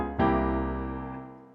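A single piano chord struck once, ringing out clearly and fading slowly as it sustains.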